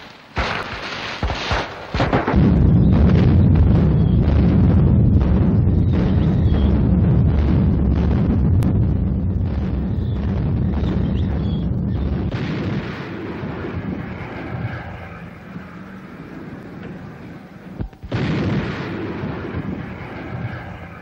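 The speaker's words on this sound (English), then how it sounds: "Light mountain guns put down a barrage and the scouts move up to cover the concentration of the main body of troops." Light mountain guns fire an artillery barrage in a 1944 Far East battle, a sustained rumbling roar of distant gunfire with repeated dull blasts, loud and continuous with wind-like noise, dropping briefly near the end before resuming.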